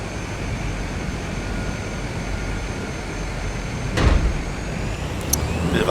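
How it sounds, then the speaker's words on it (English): A light aircraft flies a touch-and-go on a 700-metre grass runway, 09/27, in Tasmania: a steady, loud engine and wind roar throughout, with a heavier thump of touchdown partway through and a brief rattle after. "We will do a touch and go."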